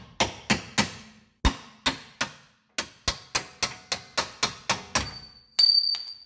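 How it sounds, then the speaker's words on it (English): A hammer strikes a punch driving a bolt through the rear lower control arm of a 2013 Nissan Altima, with about fifteen sharp, ringing metallic taps in an uneven rhythm, close and loud, then a final metallic scrape. "Get a punch and tap it the rest of the way through."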